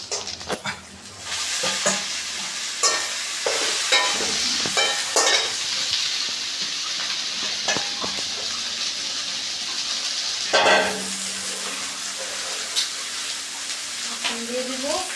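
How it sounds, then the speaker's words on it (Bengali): Leafy greens stirred into a spice paste frying in a pan for a Bengali tangra fish curry, giving a steady soft sizzle broken by repeated scraping and stirring clatter close by. "এখন আমি শাকটা দিয়ে দিব।"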